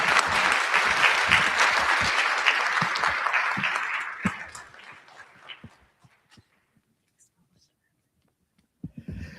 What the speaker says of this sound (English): let's give another round of applause to Dr. Hlabse